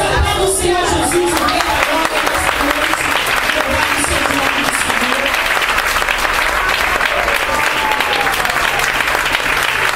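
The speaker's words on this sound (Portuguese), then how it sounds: "Aplauda o Senhor Jesus" Audience at a women's church congress applauding, loud sustained clapping from a large crowd with some cheering and voices mixed in throughout.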